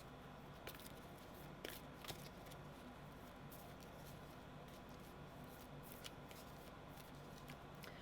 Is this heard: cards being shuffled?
yes